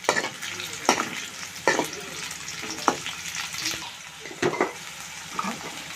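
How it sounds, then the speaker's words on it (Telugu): Garlic and green chillies frying in oil in a pan, a continuous sizzle broken by repeated sharp scrapes and clatters of stirring at irregular intervals. "ఎల్లిపాయలు కూడా వేసుకొని నూనెలో ఉడికించాలి."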